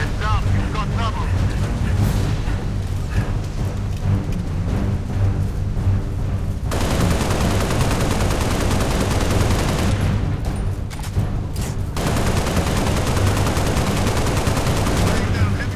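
Heavy gunfire in the Halo Reach video game, dense continuous bursts of shots with a loud, sustained roar and a sharp change in texture partway through, while voices speak over the action.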